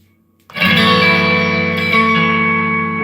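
Electric guitar chord struck through a Strymon Mobius modulation effects pedal on a pedalboard into a Mesa amp, ringing out loud after a brief quiet start, with a swirling modulated sustain and a slight restrike partway.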